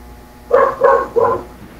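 A neighbour's dog barks three times in a quick, evenly spaced run, moderately close and clear over a quiet background hum, with no talking.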